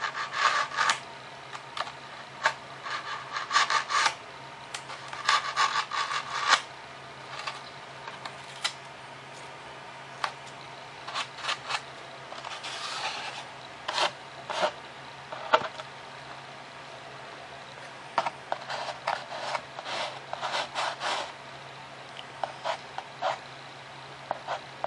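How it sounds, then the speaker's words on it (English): Blade cutting and rubbing through the foam fuselage of a Super Cub model airplane, close-up scraping strokes in irregular bursts with short pauses, no talk. "I'm going to go ahead and trim up this back nice and even."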